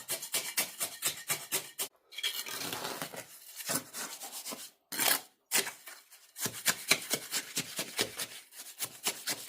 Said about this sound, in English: once I mix it up with the lime, it kind of coats it all anyway